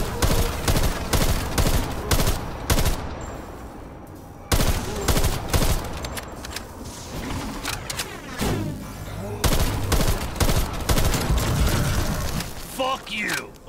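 Rapid bursts of automatic gunfire in a zombie shooter game, loud repeated volleys broken by short pauses, with players talking over the shooting.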